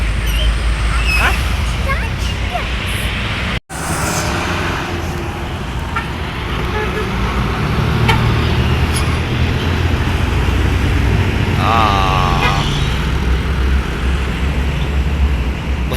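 Buses passing along a busy road in Palembang at ten at night, a loud steady roar of traffic with a brief horn, people chatting nearby throughout.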